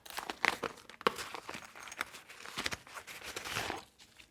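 Close crinkling and rustling of fabric and plastic as the outside zipper pocket of a flute case is opened, with a few sharp clicks and a brief zipper-like rasp, handled near the microphone.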